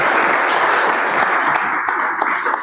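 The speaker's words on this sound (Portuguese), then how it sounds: "Vou solicitar uma salva de palmas para o nosso palestrante." An audience at a conference talk gives the presenter a round of applause, dense steady clapping from many hands that thins slightly near the end.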